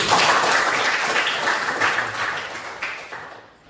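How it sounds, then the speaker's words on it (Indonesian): Children in a classroom clap together in dense, steady applause that fades away at the end. "Tepuk tangan untuk kita semua dulu."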